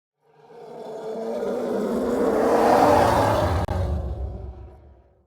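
A processed elephant scream layer built from elephant recordings, a dense roaring swell that builds over several seconds, peaks loudly with a brief dropout near the end, then fades, with no voices.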